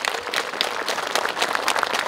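Audience applause at a Korean civic ceremony marking a new KTX train stop at Mulgeum Station, Yangsan, 2023: a steady wash of many hands clapping, fairly close and continuous for a couple of seconds with no talk.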